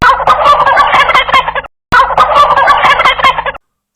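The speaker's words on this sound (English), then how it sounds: "turkey" A turkey gobbles loudly and close, two rapid warbling bursts separated by a brief silence.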